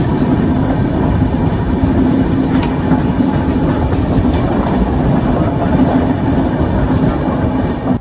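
The Grand Trunk Express running on rails near Nellore in India, a loud continuous rumble with steady wheel clatter heard from inside the moving train, without a break.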